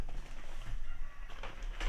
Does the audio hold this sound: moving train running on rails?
no